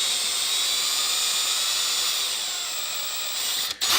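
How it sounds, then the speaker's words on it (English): A power drill runs steadily, drilling out the rear of a Traxxas-style RC car chassis, a Typhon 6S, with a high whining motor tone that holds close and loud before a brief dip near the end. "I'm gonna go ahead and drill out the back now."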